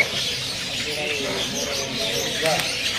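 Caged birds call and chirp in a crowded bird market, a dense chatter of calls running under a speaking voice throughout.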